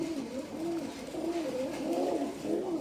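Pigeons coo in soft, repeated rolling calls, close and steady over a faint background hum.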